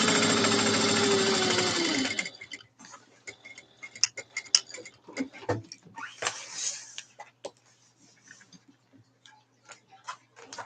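A home sewing machine runs steadily at close range for about two seconds, then stops, followed by faint clicks and handling noises from the machine and fabric.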